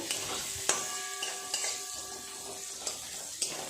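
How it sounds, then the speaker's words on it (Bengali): Chopped onions fry in oil until reddish-brown for biryani, giving a soft, continuous sizzle with several sharp clinks and scrapes of a stirring utensil against the pan. "খুব ভালো করে লাল লাল করে পেঁয়াজটাকে ভেজে নেব"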